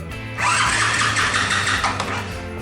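A Honda Super Cub engine, just rebuilt with an overhauled cylinder top end, revs hard at full throttle in a loud, steady mechanical roar that swells in and holds for about two seconds before easing, with no talk over it.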